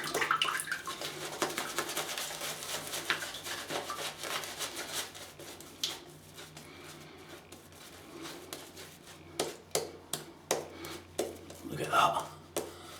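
Tap water runs while Wholly Kaw Project Leather shaving soap is lathered with a Rex Ambassador synthetic brush, a hissing splash mixed with wet swirling and rubbing that turns into louder, uneven brush strokes near the end.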